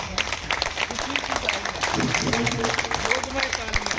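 A crowd at an outdoor yoga ground breaks into loud, dense applause, a steady wash of many hands clapping with voices and cheers mixed in throughout.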